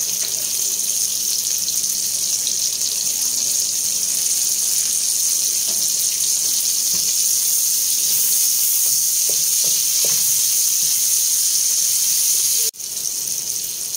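Onions hit hot oil left from frying milkfish for pakbet, giving a loud, steady hiss of sizzling that runs unbroken throughout with faint crackles and a brief dip near the end, no talking.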